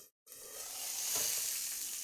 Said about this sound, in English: A big sizzle going on here.